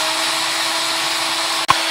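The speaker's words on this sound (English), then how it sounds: "so I'm going to drill a hole into it." A drill whines loudly and steadily for nearly two seconds, ending with a sharp knock near the finish.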